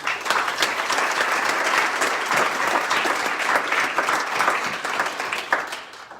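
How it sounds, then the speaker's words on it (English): An awards-night audience gives a sponsor a round of applause: dense, steady clapping from a large crowd that holds strong for several seconds before tapering off at the end. "Let's give Home a round of applause."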